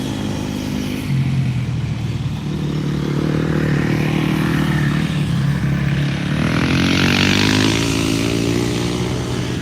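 A motocross dirt bike on a muddy rutted practice track revs loudly up close and pulls away, the engine note climbing as it accelerates, with no speech.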